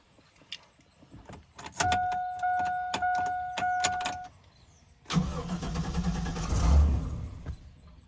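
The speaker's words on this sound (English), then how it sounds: "let's see how it sounds trying to start up now" A Nissan Hardbody pickup truck engine cranks in repeated rapid clicks with a chime sounding alongside, falls briefly quiet, then cranks again harder with a rough rumbling, no speech.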